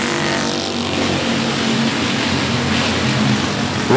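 Race cars at the 105 Speedway accelerating around the track during a regular race program, a loud, continuous engine roar that holds steady throughout with no voices over it.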